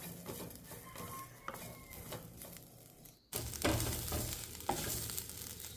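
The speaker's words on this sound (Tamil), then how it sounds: "இது எல்லாத்தையும் நல்லா வதக்கிக்கலாம்." Coconut, tamarind and salt being sautéed together in a pan for chutney, with soft scraping stirs and low sizzling that grows into a fuller, steadier frying hiss halfway through.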